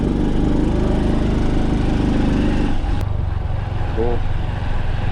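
A Honda Trail 125 motorcycle rides off-road across Arizona desert sand, its steady mid-pitched engine drone loud and close throughout, easing briefly before continuing under the same hum.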